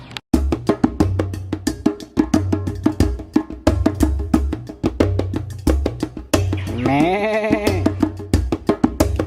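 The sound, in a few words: dwarf goats bleating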